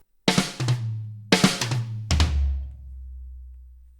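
A drum intro fill played unevenly: three clumsy clusters of hits with irregular spacing between strokes, the last ringing out into a low decaying tom boom.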